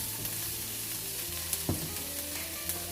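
A small amount of butter sizzles in a pan, a soft steady hiss close by with a couple of faint clinks, no voices.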